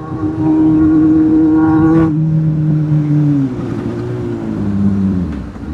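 A Kawasaki 10R motorcycle roars past on the road, its engine revving loudly with a high, steady whine that drops in pitch as it goes by and fades into passing traffic.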